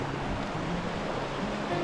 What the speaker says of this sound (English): we caught up with the creek